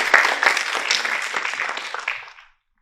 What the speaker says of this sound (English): Let's give her a round of applause, guys.